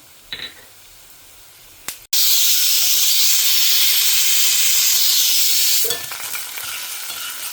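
Spices are dropped into hot oil in a home kitchen and burst into a loud, continuous sizzle and hiss, with a few faint clinks before, then the frying settles into a softer steady crackle.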